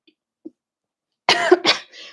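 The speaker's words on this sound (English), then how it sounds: "It keeps making me cough" A person with a sore throat coughs hard twice in quick succession close to the mic, followed by a softer trailing breath, after a near-silent pause with a faint tap.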